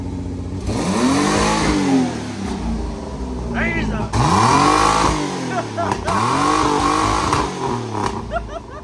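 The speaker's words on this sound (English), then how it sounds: "There ain't nothing like cold revving your old Fiero" A cold 1986 Pontiac Fiero GT engine revs up and down repeatedly, loud and close, with rising and falling whines and rough idling between revs.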